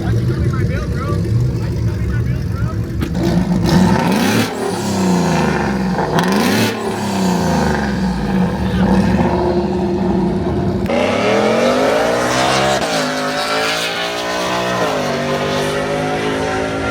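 Race cars rev at a car meet, engines roaring up and down in pitch with a long climbing rev near the end, loud and nearby while people talk over the noise.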